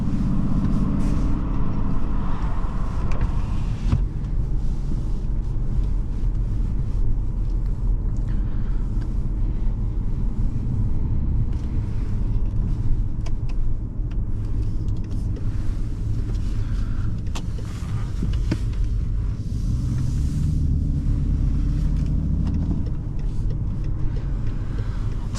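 A 2010 BMW 535i xDrive on a test drive produces a steady low engine drone with road and wind rumble. It is continuous and moderately loud from inside the cabin, shifts slightly in tone partway through, and no one speaks.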